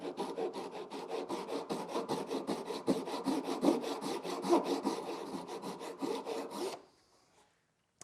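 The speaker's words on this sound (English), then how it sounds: "Once the kerf is established, I can begin to cut it at an angle." Hand saw cutting an angled kerf into scrap wood, a fast rhythmic rasp of about thirty short back-and-forth strokes at close range, stopping abruptly near the end and leaving near silence.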